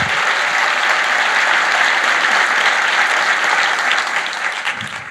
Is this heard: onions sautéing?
no